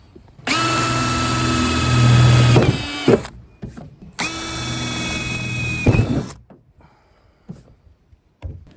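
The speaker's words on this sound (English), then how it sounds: "So now I'll drill some holes and get this first one on" A power drill whirs into a roof in two long bursts, each a couple of seconds, with a short pause between and faint knocks afterward, loud and close.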